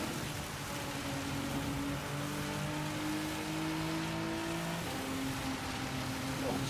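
Heavy rain during a Gran Turismo 7 race, a constant wet hiss beneath the droning, shifting whine of racing car engines, steady throughout.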